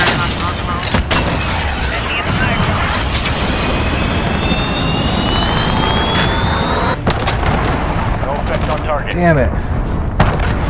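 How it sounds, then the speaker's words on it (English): A cruise missile is launched and explodes in Call of Duty Modern Warfare on PC, amid dense, continuous rumbling booms and gunfire-like blasts. The noise fills the whole stretch, and a voice speaks briefly over it. "Cover me while I do my cruise missile"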